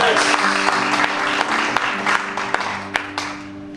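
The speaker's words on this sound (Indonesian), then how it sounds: "Mau tepuk tangan buat Tuhan kita" A church congregation applauds together, a dense, loud burst of clapping that swells and then tapers off over a few seconds, with a few sharper individual claps standing out and voices murmuring underneath.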